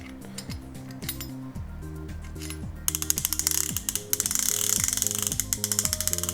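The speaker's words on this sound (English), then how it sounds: "This reel here is, let me put the clicker on." Clicker ratchet on a Chinese conventional fishing reel, a rapid run of sharp mechanical clicks that speeds up into a dense, loud ticking burst, heard alone.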